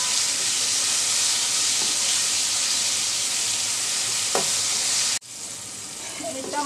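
Yardlong beans fry in a pan with a pinch of turmeric, giving a loud, steady sizzle with occasional stirring scrapes before the sound cuts off abruptly near the end.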